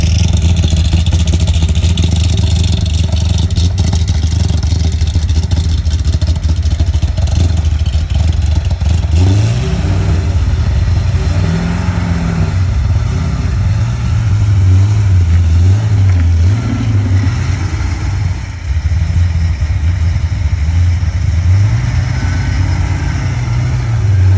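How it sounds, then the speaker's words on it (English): A Chevrolet Corvette Z06 engine runs loud and close, holding a rough, aggressive idle, then blipping the throttle in repeated wavering revs. "here's a clip of how nasty it sounds"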